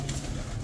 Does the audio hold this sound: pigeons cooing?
yes